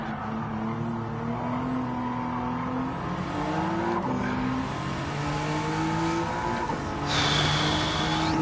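A race car engine in the video game Gran Turismo 7 revs steadily higher through the gears, with rising and falling whine and a continuous droning roar at high speed.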